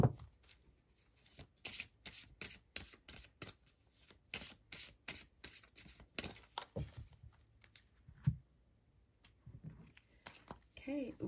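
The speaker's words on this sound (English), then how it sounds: "Let's give that another good shuffle." A deck of tarot cards is shuffled by hand at close range in a series of quick riffling and slapping bursts with short pauses between them, while a soft voice talks over parts of it.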